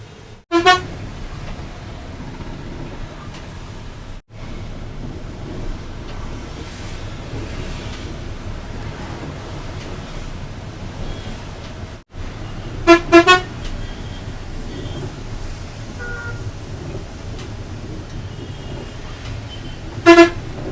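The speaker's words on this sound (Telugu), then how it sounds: "ఇంత ట్రాఫిక్ జామ్" Car horns honk in short bursts at intervals, a few quick toots at a time, over a steady wash of rain-soaked traffic noise in a Hyderabad traffic jam.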